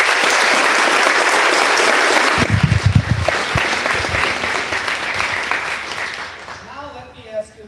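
A crowd at a First Lady's visit to Ivy Tech Community College in Indiana applauds loudly and steadily, then the clapping thins with a few whoops before fading as a voice begins to speak.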